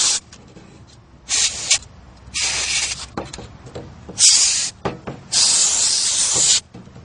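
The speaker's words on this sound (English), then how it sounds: "I'll reach in and hold on to the lower fan's blades and blow out the dust." Compressed air blasts dust out of computer cooling fans in short hissing bursts, about five of varying length separated by pauses, close and fairly loud.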